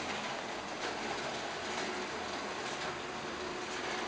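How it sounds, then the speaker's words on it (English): An HO-scale model train runs on layout track, a faint, continuous rolling rattle with light rhythmic clicks that stays steady throughout. "Now we see the next train starting up."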